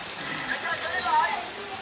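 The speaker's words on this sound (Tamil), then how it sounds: "சரியான மழை வந்துருச்சு." Heavy rain falling at an outdoor cricket tournament, a steady close hiss of drops at fairly strong level, with a faint voice in the background.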